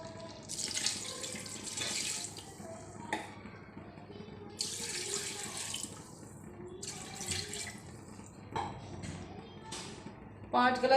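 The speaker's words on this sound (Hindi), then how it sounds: "पानी डाल देंगे" Water poured from a glass into a cooking pot of karela gosht (bitter gourd and meat curry), several splashing bursts of pouring separated by short pauses, close and fairly loud, with a voice talking lightly over it.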